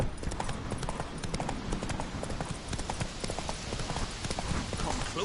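Roach, the horse in The Witcher 3, trots with a steady, close clip-clop of hooves that runs the whole time, with game background noise and some voices mixed in.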